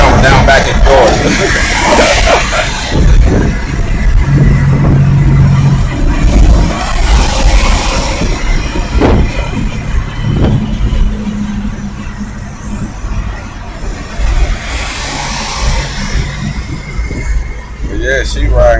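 A 1994 OBS Chevy truck driving on the road, with a steady loud engine and road rumble running throughout; someone talks over the noise for much of the time.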